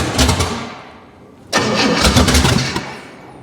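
A long-idle junkyard car engine fires up for its first start, cranking and catching with a sharp loud onset, then running rough and uneven at close range before easing off.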